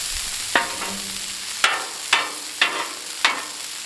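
Hashbrowns frying in oil on a Blackstone griddle, a constant close sizzle broken by five sharp scraping strokes of a spatula at uneven intervals.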